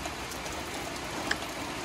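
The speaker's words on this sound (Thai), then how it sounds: "บรรยากาศฝนตกปล่อยๆนะครับ" Steady rain falls at a rural garden house in Udon Thani during a storm, a dense, even hiss of drops on surfaces with one brief louder drip, no voices.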